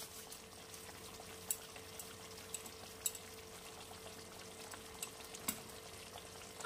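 Potato and cauliflower curry (aloo gobi) gently frying and being stirred in a pan over a lowered gas flame, a faint, soft sizzle broken by a few light clinks of the spoon.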